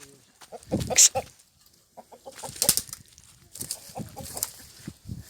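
Chickens cluck and squawk close by as they are herded into a village coop, with repeated uneven calls, a few wing flaps and some rustling.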